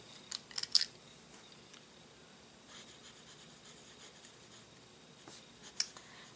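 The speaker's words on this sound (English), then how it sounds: "see how I just picked it up and it instantly started writing?" A medium-nib fountain pen moves across paper, making faint scratchy strokes, close and quiet, with a few small clicks near the start and the end and no voices.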